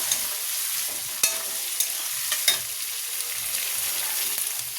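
Chopped vegetables half-frying in a pan with garlic and green chillies, for chilli chicken, make a close, steady sizzle with occasional sharp clicks of stirring and no talk.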